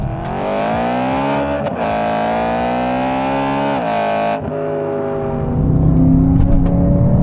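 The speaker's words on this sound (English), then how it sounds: "you got to rev the absolute crap out of this to get going" A 450 bhp BMW E92 M3 engine revs hard and holds high rpm through upshifts, loud and close from inside the cabin, dropping off abruptly near the end before a rougher drone.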